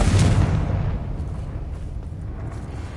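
A Confringo fire spell bursts in Hogwarts Legacy, one loud booming blast up front that rolls off into a long, fading rumble, with no talking.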